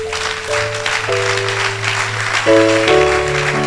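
A church congregation at a Sunday worship service applauds in acclamation of God, a continuous broad wash of clapping with sustained keyboard chords playing underneath.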